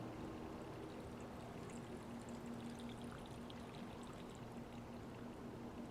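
Salt brine pours steadily into a jar of radishes for pickles, a continuous close, even splashing rush with no talk.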